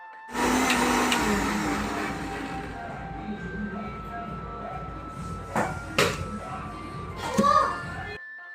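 A kitchen mixer grinder whirs loudly and steadily, then fades into softer clatter and a few knocks, with faint voices in the background.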